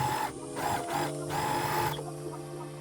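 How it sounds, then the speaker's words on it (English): An overlocker runs along the sewn edges of a denim handbag made from old jeans, a close, steady mechanical whirr with rhythmic stitching pulses that slows slightly near the end. "Overlock the edges you've sewn."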